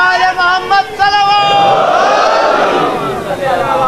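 A large congregation at a Muharram majlis in an imambargah shouts a religious chant in unison, a swelling roar of many voices that follows someone speaking and then sustains loudly before tapering.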